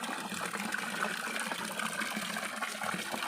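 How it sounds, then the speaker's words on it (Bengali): Water gushes steadily into a homemade swimming pool, making a continuous, fairly loud rushing and splashing wash with no breaks. "ভরছে জল, ঠিক আছে।"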